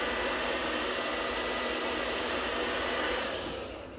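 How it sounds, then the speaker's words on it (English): A hair blow dryer set to medium runs steadily close by while drying hair, a continuous loud whooshing roar that eases off slightly near the end. "we're gonna use the blow dryer to make it a little tacky"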